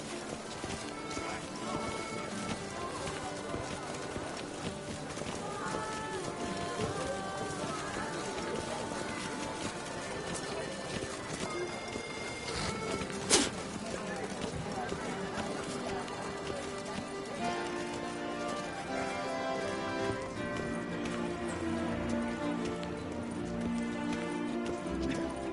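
Horse hooves galloping in The Witcher 3, a continuous rapid drumming of hoofbeats that runs the whole stretch, mixed with game music and a voice speaking over it.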